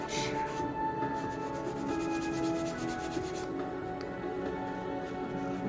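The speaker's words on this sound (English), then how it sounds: "I think I just have to do a little bit of spot sanding here and there" Spot sanding on a carved cliff craft piece makes a quiet, steady rubbing and scratching that runs without a break, with no voices.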